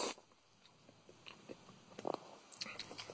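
Someone eats a Dairy Queen Guardians Galaxy Mix Blizzard with brownies, chocolate and caramel cookies, close soft chewing and slurping with a few sharper crunchy bites, fairly quiet with no talk.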